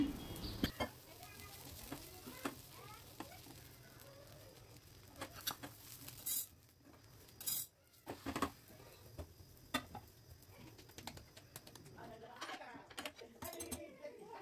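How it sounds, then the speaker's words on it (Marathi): A bhakri roasts on a hot tava over a gas flame with a faint, soft sizzle, broken by scattered light taps and scrapes close by. "भाकरी तव्यावर टाकून छान भाजून घेतली."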